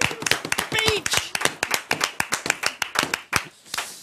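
Rapid, close hand claps in an uneven burst of single sharp claps, with talk mixed in at the start.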